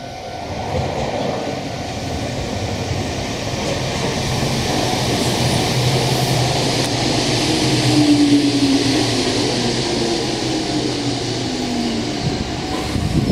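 A Meitetsu 1800 series local electric train rolls into Okuda Station on the Nagoya Main Line with a steady rumble that slowly builds, and a faint whine rises and fades as it nears.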